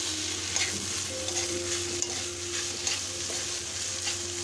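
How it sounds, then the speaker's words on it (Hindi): Boiled chowmein noodles fry in a hot pan. A constant close sizzle runs through, broken by light scrapes and taps of a stirring spoon, with no talking. "बॉइल्ड चाउमीन डालेंगे, इसको थोड़ा फ्राई करेंगे।"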